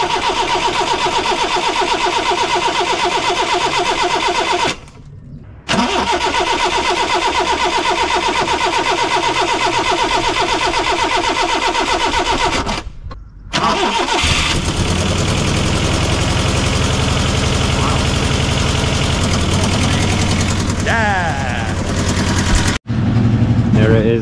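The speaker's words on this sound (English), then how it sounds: "Right, let's see if she starts up." A Honda Civic engine cranks and fires, with brief gaps between attempts, then settles into a loud, rough, buzzy idle heard up close.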